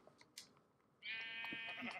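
Sheep bleating in the Minecraft video game on Xbox One, a steady, drawn-out bleat lasting about a second, loud and clear after some faint background game noise.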